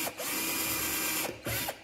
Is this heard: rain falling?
no